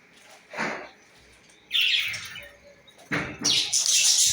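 Pet lovebirds chirping and squawking in three close, loud bursts of high calls, the first brief and the last two longer and denser, with quiet gaps between.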